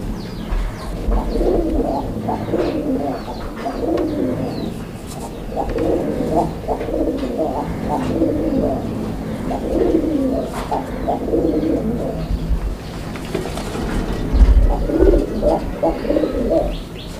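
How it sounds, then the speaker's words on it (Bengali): Pigeons coo repeatedly in soft, rolling bursts, several birds close by, with faint chirps and background rustle. "দেখেন কবুতর দেখেন আপনারা, কবুতরের সাইজটা দেখেন।"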